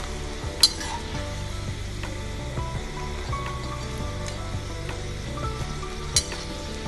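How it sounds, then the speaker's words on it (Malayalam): Brinjal (eggplant) slices deep frying in hot oil, a dense continuous sizzle and bubbling, close and steady, with a couple of sharp clinks from a utensil against the pan. "ഞാൻ ചൂസ് ചെയ്യുന്നത് ഡീപ് ഫ്രൈ ആണ്."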